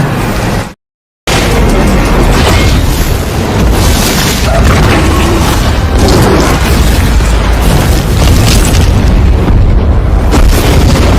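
A loud, close explosion from an explosive round fired into the mouth of Rathalos, a fire-breathing dragon monster, in an action film: a sharp blast after a short silence, then a sustained roaring rumble of fire and debris that stays dense to the end.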